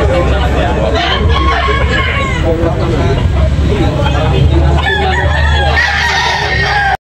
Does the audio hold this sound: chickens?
yes